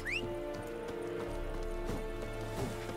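Horse hooves gallop in The Witcher 3 Next Gen, a steady rhythmic clip-clop of a running mount over ambient game music, close and moderately loud with no talk.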